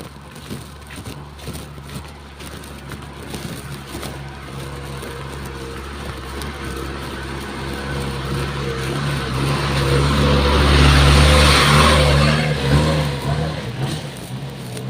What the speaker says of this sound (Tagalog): may sasakyan guys